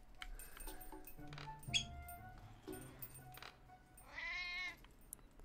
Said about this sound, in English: I find the cat funny.